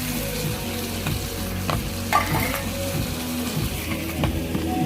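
Spice powders with sugar and chili sizzle and fry in a pan for chicken curry while being stirred, a steady crackling hiss with scraping sounds, close and loud.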